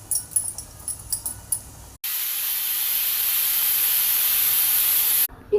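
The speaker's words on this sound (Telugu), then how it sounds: "ఇదిగోనండి, 3 విజిల్స్ వచ్చేసినాయి" A pressure cooker boiling tamarind pulp with turmeric and asafoetida lets out a loud, sustained steam-whistle hiss of about three seconds, after a few light clinks and taps.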